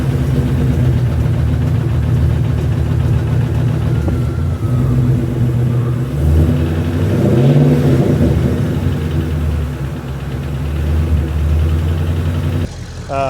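A Ford Shelby GT350 with the 5.2 Voodoo engine runs with piston slap, giving a steady close rumbling idle and low revving under faint talk.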